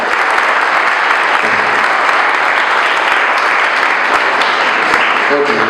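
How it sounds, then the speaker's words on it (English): Loud, close applause from a crowd at a YMCA ribbon cutting in Fall River, steady and dense throughout, with a brief hint of voices near the end. "now hold the applause till everybody's up"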